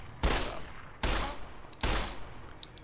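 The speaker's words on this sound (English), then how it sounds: "Let me show you the new shooting mechanics." Gunfire in a Fallout virtual reality mod: three separate loud game gunshots or short bursts about a second apart, each with a sharp crack and a decaying tail, no talking.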